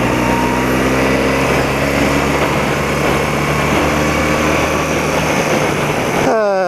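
An old motorbike engine runs steadily close up, a loud, constant buzzing drone with a slight rise in revs near the end and no speech over it.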